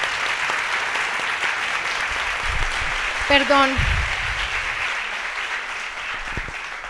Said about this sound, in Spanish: Un aplauso, por favor, para nuestras invitadas.